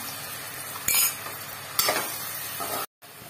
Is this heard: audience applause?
no